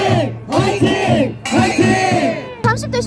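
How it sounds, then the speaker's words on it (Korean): A rally crowd cheers in rhythmic unison, loud and close, in bursts of chanted shouts separated by short pauses; no clear applause stands out. "박수로 우리 응원합시다"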